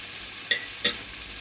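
Chicken sizzles steadily in a frying pan as it cooks for fettuccine alfredo, with two short scraping stirs standing out against the constant hiss.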